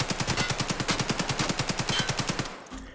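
An AK-103 automatic rifle in Escape From Tarkov fires one long sustained burst of about twenty rapid, evenly spaced, loud shots, then stops abruptly with a brief clatter at the end.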